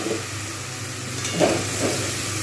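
Washed lentils, dry-roasted earlier, go into a pot of khichuri cooking as a Saraswati Puja offering, giving a steady, close hissing sizzle with a slight rise midway.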